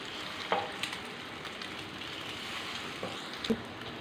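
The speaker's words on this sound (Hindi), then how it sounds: "दोनों साइडों को अच्छी तरीके से फ्राई कर लेंगे" Beef shami kebabs fry in a pan, a steady moderate sizzle with fine crackling and a couple of light clinks as they are turned to cook both sides.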